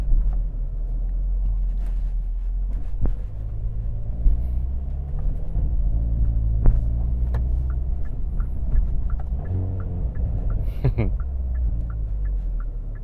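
A 2022 Hyundai Veloster N with a DCT gearbox, manually shifted with paddles and driven hard in Canada, gives a steady low engine drone heard from inside the cabin, with pitch rising and falling through gear changes and light rattles and clicks.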